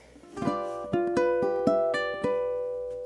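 Plucked ukulele notes ring out one after another in a gentle broken-chord pattern, clear and close with no voice.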